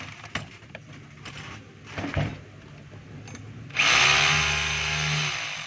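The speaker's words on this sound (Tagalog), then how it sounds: "Lagyan natin sa drill muna. Yun yung drill." A DeWalt D25133 rotary hammer runs in drill mode, starting after a few clicks and handling knocks, then spinning up to a loud, steady high-pitched whine close by.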